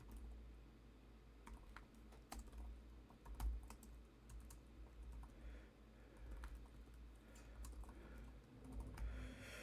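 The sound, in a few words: typing a command on a laptop keyboard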